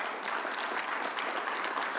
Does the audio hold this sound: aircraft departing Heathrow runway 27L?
no